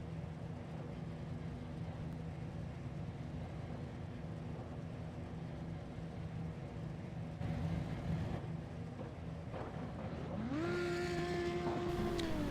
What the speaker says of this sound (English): Here we go, the drivers are revving up